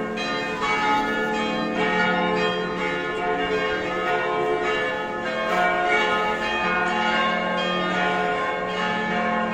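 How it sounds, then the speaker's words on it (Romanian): Church bells ring continuously at a Christmas Eve ceremony outside a church in Timișoara, Romania, a loud, dense peal of overlapping strikes with no voices. "Iată că se trag clopotele."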